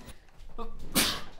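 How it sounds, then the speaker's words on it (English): A single sharp sneeze bursts out close to the mic, briefly preceded by a gasping intake of breath, during a League of Legends gaming stream. "Oh, I need to sneeze."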